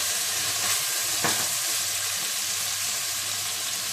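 Chicken with red chilli, turmeric, coriander, cumin, salt and yogurt frying in a pan, a loud continuous close sizzle with a couple of soft stirring scrapes.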